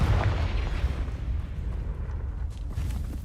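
A Confringo blasting spell in the video game Hogwarts Legacy sets off a deep, rumbling explosion that booms loudly at first and then rolls on as a sustained low roar without a break.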